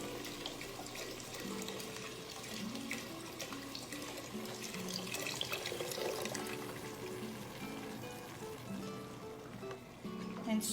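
Canned ingredient poured from the can into a cooking pan for pasta fagioli, a steady close liquid pour and splash lasting several seconds over a busy kitchen background.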